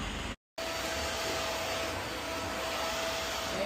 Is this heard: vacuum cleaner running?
yes